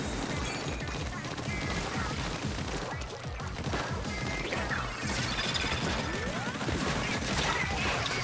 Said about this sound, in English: that's a Team Fire Tenta missile